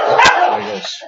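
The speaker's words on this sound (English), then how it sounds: "you might hear a bunch of dogs barking and growling" A dog gives a single short bark amid other barking and growling, close and loud, with someone speaking briefly over it.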